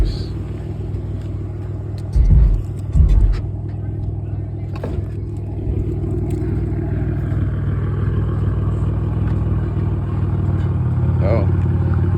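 A Pontiac engine with the catalytic converters removed idles with a deep, steady rumble close by, a couple of heavier thumps early on, and it keeps running throughout.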